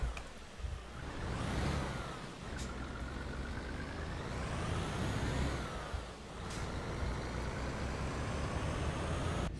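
Coach bus in Fernbus Simulator driven hard, the engine droning and rising through gear changes with whining sweeps and sharp hissing bursts like air brakes, steady and fairly quiet overall.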